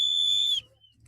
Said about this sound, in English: They're blowing their whistles.